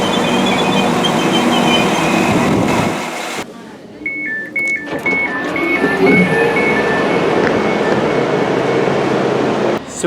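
A Northern diesel train, a Class 158, runs from Bradford Interchange to Leeds, its loud onboard rumble and wheel noise continuing with a sudden drop, a stepped electronic chime, then the steady roar again.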